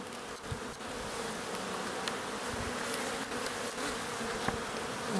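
Honeybees buzzing steadily around an open hive frame of capped brood, a dense continuous hum close by with no talk over it.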